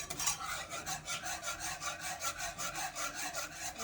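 A spoon scraping and stirring a pan of pasta sauce with milk, steady rhythmic back-and-forth rubbing strokes, close and fairly faint, with no voices.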